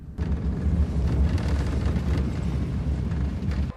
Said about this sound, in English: 40 seconds to aim, and the first 3 rockets are launched at the occupiers